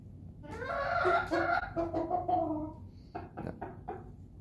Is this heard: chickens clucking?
yes